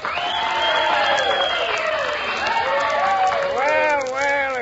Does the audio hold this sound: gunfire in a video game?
no